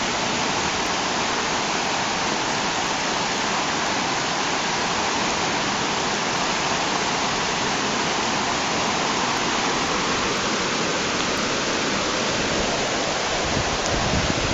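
Hurricane Irene floodwater rushing in during 2011, a loud, constant broadband roar of pouring water heard close up for the whole stretch, with no voices.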